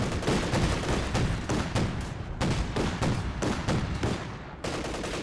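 Dense machine gun bursts and overlapping gunfire crackle from a Company of Heroes 2 battle, repeated loud rapid volleys layered with thuds, firing at close to maximum range against light cover.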